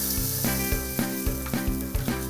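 Shallots, garlic, and red and green chilies fry in hot oil with a bright, continuous sizzle, while a rhythmic musical beat pulses underneath throughout and no one speaks.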